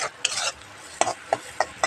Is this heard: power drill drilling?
no